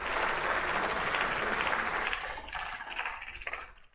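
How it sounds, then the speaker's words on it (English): An audience gives a round of applause during a live stream after a nice shot, a dense wash of clapping that fades and thins toward the end, fairly faint overall. "Let's give him a round of applause for that."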